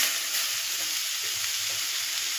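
Beetroot and carrot filling fries in a little oil, giving a steady, close hiss with faint stirring scrapes underneath and no talking.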